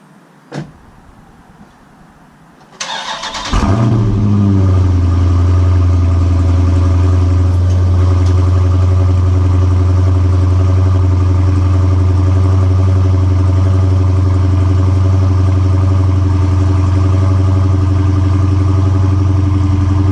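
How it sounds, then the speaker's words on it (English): A Dodge Charger Daytona 392 engine cranks and fires up on a cold start after a couple of quiet clicks, then settles into a loud, steady, rumbling idle that continues throughout. "let's hear this cold start from earlier today when I started up my car"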